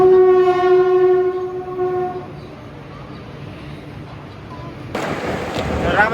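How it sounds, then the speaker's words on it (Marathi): A fast non-stopping train passes through a railway station, its horn blaring loudly at first before giving way to the heavy rolling rumble of passing wagons, which swells up again close by toward the end. "अब थोड़ी ही देर में यहाँ न रुकने वाली तेज गाड़ी जाने वाली है"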